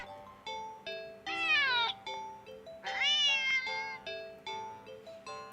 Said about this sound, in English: the cat meows sharply at you and dashes off around the corner